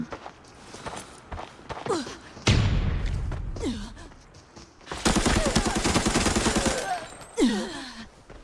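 Bursts of rapid automatic M16 gunfire in the game Arena Breakout erupt, a long sustained volley mid-way, mixed with footsteps, heavy breathing and gasps.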